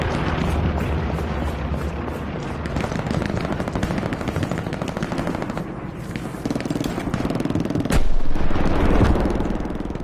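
Loud, close gunfire in the shooter game Hell Let Loose, on the Carentan battlefield: rapid automatic bursts crackle in dense runs, with a heavier boom near the end and no talking.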